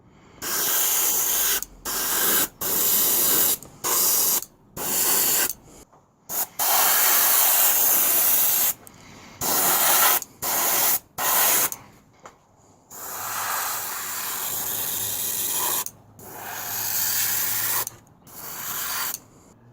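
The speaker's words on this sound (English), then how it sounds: "I have my airbrush quite low for this one, it's about 20 psi" Airbrush spraying paint in repeated short bursts at about 20 psi onto a UH-1 Huey model, a soft hiss cutting on and off with brief gaps, fairly close, no talking.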